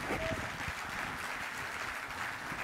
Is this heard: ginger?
no